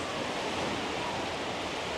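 Wave pool at an amusement park water area on a chilly opening day, with small waves giving a steady, broadband wash of churning water that holds at an even level throughout, with no voices.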